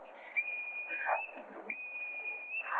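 A shrill, sustained whistle blown aboard a ship in an old film, heard in two long steady blasts, fairly loud and clear over faint background noise.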